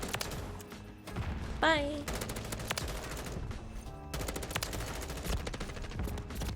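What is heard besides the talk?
JAK Patriot M16 gunfire in video game Modern Warfare 3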